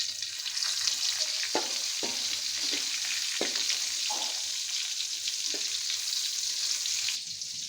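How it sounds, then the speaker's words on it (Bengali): Duck eggs fry in a pan with a continuous bright sizzle and crackle, broken by several sharp taps and scrapes of a utensil on the pan. "এখন আমি ওই ডিমের সাথে এই ডিমগুলো ভেজে নিব।"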